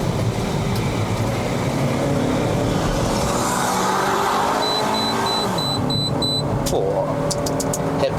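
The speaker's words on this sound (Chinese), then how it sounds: "Happy revving bro" A 2011 Honda Civic FD 2.0S climbs a mountain road, its engine droning loudly under cabin noise and rising in pitch as it revs, with brief clicks and beeps near the end.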